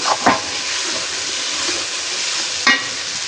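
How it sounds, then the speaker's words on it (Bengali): Water hits a pan of frying vegetable curry, setting off a loud, steady hiss and sizzle with a couple of sharp spatters near the start and end. "এখন আমি পানি দিয়ে দিই।"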